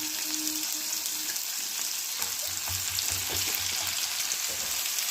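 Onions or spices sautéing in a pan for egg gravy, a steady close sizzle of frying with soft stirring scrapes and a few low knocks, continuous throughout.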